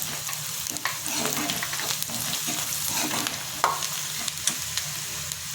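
Onions sizzle as they sauté with asafoetida, turmeric and goda masala, a steady close frying hiss broken by repeated stirring scrapes and light clinks of a spoon against the pan.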